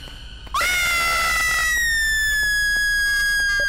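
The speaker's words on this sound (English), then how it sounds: "Why are you screaming?" A shrill, sustained scream erupts suddenly and holds loud and piercing for a few seconds in a backrooms horror game, slowly sliding down in pitch with no other talk.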